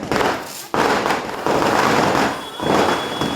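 Diwali firecrackers bursting one after another in loud, crackling volleys, with a sharp break before each new cluster of explosions and a steady high whine near the end.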